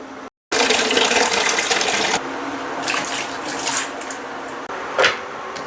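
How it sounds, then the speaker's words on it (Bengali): Vegetables washed under running tap water in a kitchen, with a loud continuous splashing stream that shifts in tone as items move beneath it, a short silence at the start. "তো চলো এই সবজিগুলো আগে প্রথমে আমি ধুয়ে নেবো"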